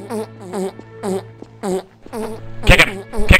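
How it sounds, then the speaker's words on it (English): A cartoonish fart sound effect in a video game plays as a run of short, buzzy bursts in a regular rhythm, then two louder blasts near the end. "Fired a fart down, wow."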